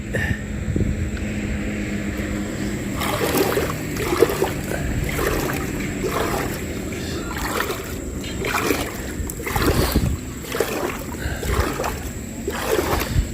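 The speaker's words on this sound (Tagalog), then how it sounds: "sinasagwanan ko ng kamay" Water sloshes and splashes in repeated strokes as a boat is paddled by hand, with a steady background rumble throughout.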